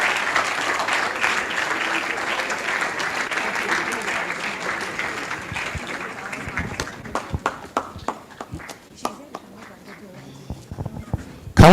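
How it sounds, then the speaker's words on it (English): A crowd applauds steadily, dense clapping that thins out into scattered individual claps as it fades, with a voice over the sparse end. "a big round of applause"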